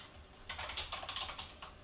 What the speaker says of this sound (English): Typing sideways is a lot harder than I thought it would be.